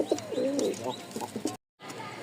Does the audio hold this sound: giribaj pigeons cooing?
yes